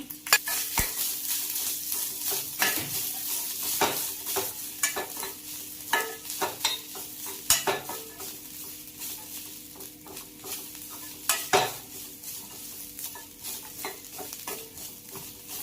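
Poppy seeds, fennel and grated coconut roasting over low heat in a pan, with a soft steady sizzle under repeated close, crisp scrapes and taps of a stirring spoon, and no voices.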